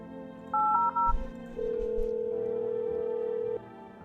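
A phone in the video game No, I'm Not a Human gives a few quick dialing beeps, then a single sustained electronic tone that holds steadily for about two seconds before cutting off, with no voices.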